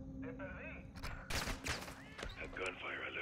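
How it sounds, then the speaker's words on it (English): Bursts of gunfire from the video game Modern Warfare 2 (2022) crack out in a quick cluster, loud against the background and mixed with game noise and a voice. "A gunfire alerted them."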